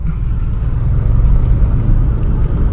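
A manual car creeps up a spiral parking ramp in first gear, its engine giving a steady low rumble that stays close and even throughout, with no voices.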